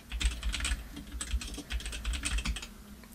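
Computer keyboard keys are pressed in a quick, irregular run of soft clicks and taps, close and fairly quiet, with no voices.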